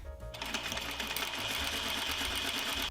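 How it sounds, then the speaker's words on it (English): A sewing machine runs steadily, stitching a narrow baby hem on a dress, with the motor's close, continuous whir lasting nearly three seconds alone after a brief start. "Step 15, hem the dress with a baby hem. I sewed 1/4 inch all around as a guideline."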